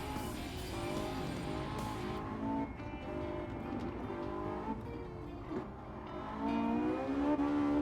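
Porsche 918 Spyder in Gran Turismo 7 roars steadily through its engine note, with rising and falling revs and some tire squeal as the game car is driven hard, loud and continuous.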